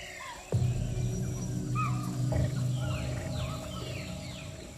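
An eight-year-old male tiger of about 220 kilos, in the Indian jungle, gives a deep, sustained low rumbling growl that starts abruptly and carries on, while birds chirp high over it.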